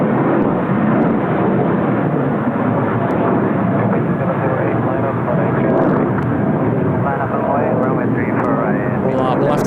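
An airliner taxiing at Seoul Incheon Airport gives a steady, loud engine drone that holds through the whole stretch, with a voice talking over it.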